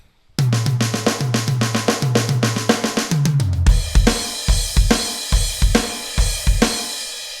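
A drum kit plays a rapid triplet accent pattern moving around the toms and snare, with crisp repeated hits in a steady rolling rhythm, ending in heavier low tom strokes, played alone and up close.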